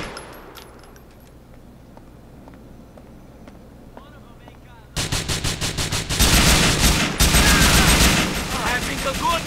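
Gunfire in GTA IV, quiet with faint game sounds at first, then sudden loud rapid automatic bursts firing repeatedly in close, rhythmic volleys until the end.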